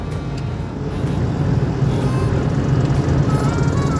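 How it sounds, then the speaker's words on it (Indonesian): A 1.0-litre Toyota Starlet EP70 accelerating hard on kickdown on an ordinary road, its engine drone rising steadily and growing louder, heard from inside the car without talk. "sekarang gue bakal langsung kickdown mobil ini"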